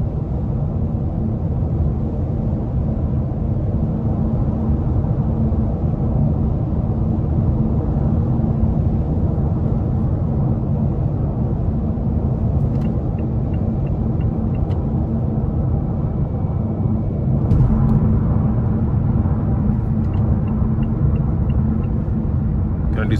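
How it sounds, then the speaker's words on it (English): Steady low tire and road rumble inside a 2021 Mazda 6 2.5 Turbo on 19-inch wheels with narrow tires, a constant loud cabin drone throughout with no break. "Even with these bigger 19-inch wheels and the skinny tires, they have a little noise coming from them, which is to be expected"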